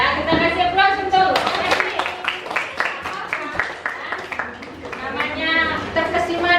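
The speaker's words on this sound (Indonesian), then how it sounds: "Kita kasih aplaus untuk" Classroom applause from students for a classmate's presentation, a sustained burst of clapping with voices and chatter mixed in throughout.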